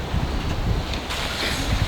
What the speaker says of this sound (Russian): Что такой ветер у вас?